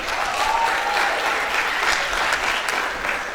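An audience at a university college graduate induction ceremony applauds the acting director, a dense, steady wash of clapping filling the hall.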